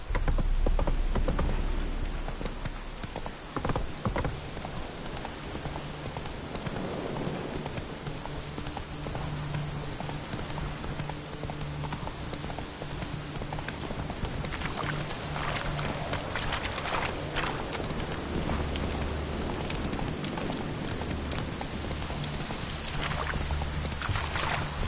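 Roach, the horse in The Witcher 3 video game, gallops with steady hoofbeats under a dense, loud layer of game ambience and music, continuous for the whole stretch.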